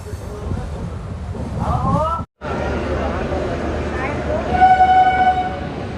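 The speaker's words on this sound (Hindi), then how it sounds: "हमारी विक्रमशिला एक्सप्रेस पहुंच चुकी है अपनी तीसरी स्टॉप जमालपुर जंक्शन" The Vikramshila Express arriving at Jamalpur Junction, a loud steady rumble of rolling rail cars with a brief drop-out, then sustained horn tones rising over the noise near the end.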